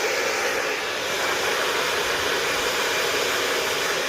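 A hair dryer blows steadily at close range as hair is dried at the roots, a constant loud airy whoosh that holds without change throughout.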